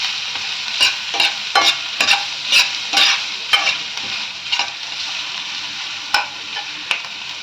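Onion frying in oil with curry leaves for a dry cluster bean dish, a steady close sizzle punctuated by repeated sharp scrapes and knocks of a spoon stirring the pan.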